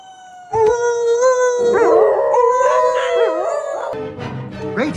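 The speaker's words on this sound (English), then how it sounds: "You're gonna start a howl." Animals howl in the animated film Zootopia, several long wavering cries overlapping and rising and falling close up, with a brief break before more howls join in.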